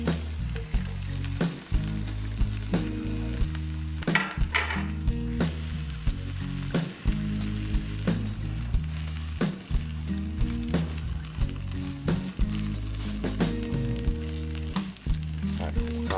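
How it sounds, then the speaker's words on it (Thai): Glass noodles and vegetables stir-fried in a pan: a steady sizzle runs throughout, with repeated scraping and clattering strokes and a music track playing underneath. "ครับแล้วก็เป็นการผัด ผัดต่อไปนะครับ เดี๋ยวต่อไปเราก็จะเอาพวกผักนะครับ ผักทั้งหมดใส่ลงไปเลย"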